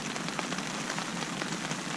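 Pouring rain at a canoe expedition camp along a river, a dense, steady hiss of drops drumming on surfaces, loud and unbroken throughout with no voices.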